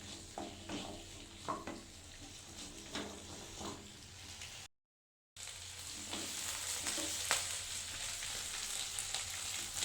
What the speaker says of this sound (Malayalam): അത് നല്ലപോലെ ഒന്ന് വഴറ്റി എടുക്കണം.